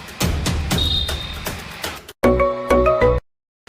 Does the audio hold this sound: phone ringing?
yes